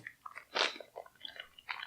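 A Snickers bar is bitten with a crisp crunch, then chewed close to the microphone in a series of small, dry crackling chews that grow quieter and come in short bursts.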